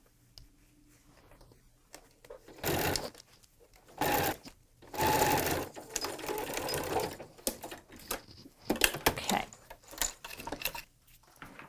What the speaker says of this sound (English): I'll just keep sewing all the way around to here, and we'll stop.